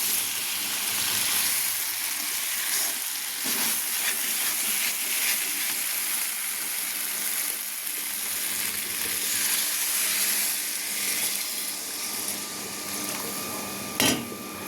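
A hot pan of sautéed potatoes with green chili and tomato gives off a loud, continuous sizzling hiss after water is poured in, steady and close throughout, with a brief sharp clink near the end.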